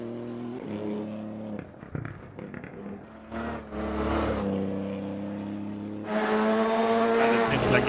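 Rally car engine on a stage of Rally Porec in the Eastern European Rally Championship, revving and easing off steadily, then climbing to a louder, higher pitch near the end as it accelerates.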